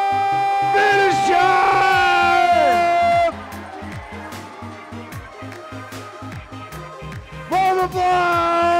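Crowd at an indoor bouldering competition cheers, whoops and yells loudly, with an announcer shouting over the noise; the roar dips to scattered shouts midway, then swells again near the end.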